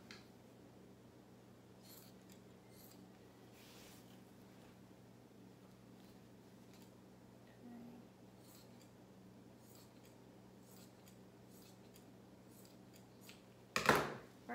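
Scissors trimming shirt fabric at a sewing table, faint soft snips and rubbing scattered through a quiet room, ending in a sharp louder cut near the end.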